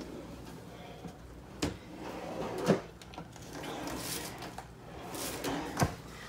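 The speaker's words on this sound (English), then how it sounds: "Each of them are drawers that pull out with lots and lots more storage." Storage drawers built into the stair steps of a luxury steel-frame tiny house slide out with several hollow thuds and knocks, spaced apart over room noise and a little background talk.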